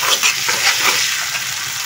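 Ginger and garlic sizzle loudly in plenty of hot oil with taro greens, a steady close frying hiss broken by light stirring scrapes.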